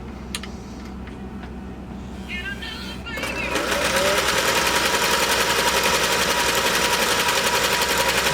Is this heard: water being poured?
no